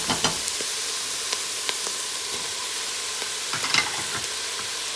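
Carrots frying in a heavy-bottomed pot for lamb stew, a steady crackling sizzle under scattered light scrapes and clicks from stirring.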